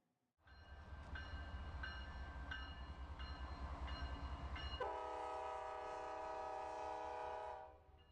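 A commuter train rumbles past, its loud steady roar and rhythmic clatter joined midway by a sustained horn blast that holds for several seconds before the sound cuts off, with no voices.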